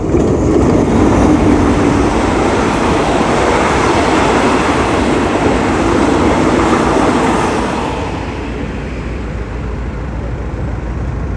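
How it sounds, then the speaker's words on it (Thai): An Alstom diesel locomotive train rumbles past loudly at a road railroad crossing in Thailand, with a dense roar of engine and wheels, fading gradually as it moves away. "น่าจะเป็นรถจักรอันสตอมนะครับ ใช่แน่นอนอันสตอม มาแล้วนะครับ"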